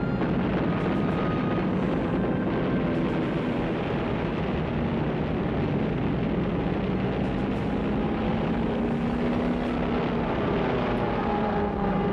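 Japanese warplanes attacking the aircraft carrier Yorktown produce a continuous droning aircraft roar with shifting engine tones, loud and sustained throughout, with no one speaking.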